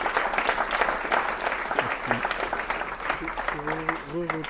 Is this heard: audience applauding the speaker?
yes